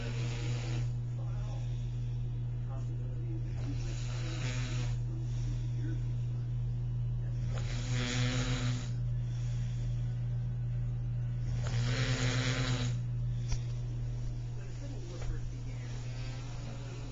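A woman snores while asleep, slow rhythmic rasping breaths repeating every few seconds over a steady low electrical hum in a quiet room.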